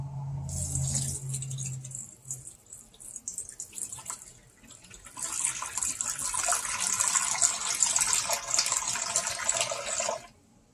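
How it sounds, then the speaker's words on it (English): A short trickle is followed by a pause, then a steady stream of water splashes into a pot for several seconds before stopping abruptly. "So we're going to add some water to the bottom of this."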